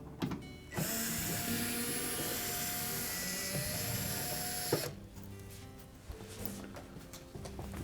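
Power driver spinning out quarter-inch hex head screws from the back cover of a Whirlpool refrigerator, giving a long steady whir with a ratcheting edge that stops abruptly, followed by quieter handling.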